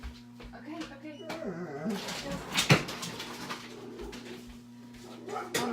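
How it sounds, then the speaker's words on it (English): Tucker, a family guard dog, whimpers and whines in a backyard amid bird cooing, with a person talking over the sounds and a steady background hum. "Tucker is our guard dog"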